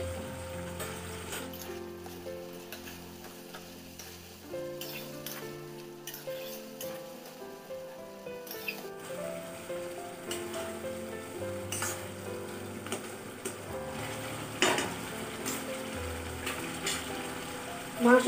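Goat meat frying with turmeric, cumin and coriander powder in a pan for a Bengali potato and mutton curry, a soft steady sizzle and stirring heard beneath background music.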